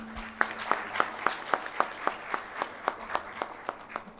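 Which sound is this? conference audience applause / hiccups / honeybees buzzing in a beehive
conference audience applause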